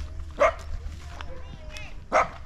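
A dog on a farm hillside barks twice, two short distinct barks spaced about two seconds apart, moderately close, over a quiet outdoor background with faint voices.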